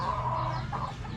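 A six-month-old Talisayan stag gives a low, close cluck that is brief and steady, with no talking.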